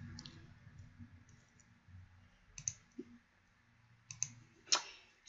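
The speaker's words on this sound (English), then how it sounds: "if I double click here" A computer mouse gives soft, close clicks, a few sharp ones standing out including a quick pair near the end, against a quiet background.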